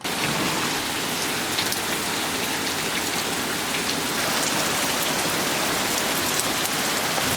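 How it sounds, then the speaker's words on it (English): Heavy rain in the Pacific Northwest, a loud, dense and steady downpour hissing and pattering on surfaces without letup, no voices. "it had to immediately start raining the hardest that it possibly could. I'm gonna try to show you this rain."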